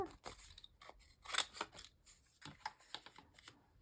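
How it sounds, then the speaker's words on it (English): Scrapbooking scissors snipping through paper for a junk journal page in a quick run of short, crisp cuts, close and fairly quiet, with no one speaking. "use my scrapbooking scissors here"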